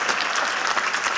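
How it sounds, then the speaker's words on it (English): Medium applause from an audience at a health conference plenary, a steady wash of clapping filling the whole short stretch without voices. "About a medium applause there"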